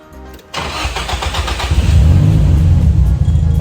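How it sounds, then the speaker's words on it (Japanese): A Nissan Silvia S14 engine cranks briefly, then catches and settles into a loud, steady idle close by, with a slight rise in revs just after it fires. "OK、これはちゃんとかかるね。"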